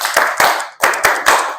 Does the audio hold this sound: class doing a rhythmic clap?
yes